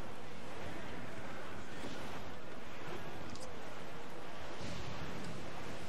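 Strong wind and rolling sea waves in the Assassin's Creed IV Black Flag video game roar as a loud, continuous wash of noise, gusting and surging throughout with no speech over it.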